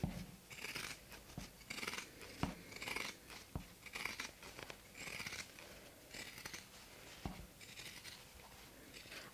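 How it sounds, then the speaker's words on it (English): Pinking shears cut through fabric for a backpack, giving a quiet series of crisp, rhythmic snipping crunches, each closure of the blades distinct and close to the microphone. "since I have pinking shears, I'm just going to use them"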